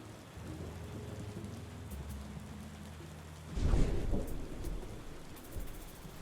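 In the video game Tavern Keeper, a thunderstorm brings steady rain hissing throughout, with a deep thunder rumble rolling in midway and then fading back under the rain.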